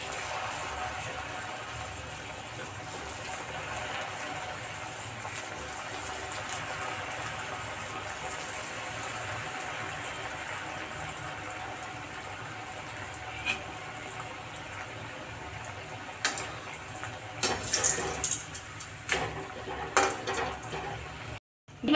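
Paneer dahi vada batter fries in hot oil over a medium flame, a steady close sizzle and hiss that runs throughout, with a few clatters and stirring knocks near the end.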